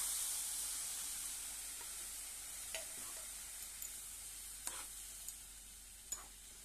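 Milk poured into a pan of roasted semolina, coconut and sugar for peda sets off a steady, fairly quiet sizzling hiss, with a few light clicks of stirring scattered through it.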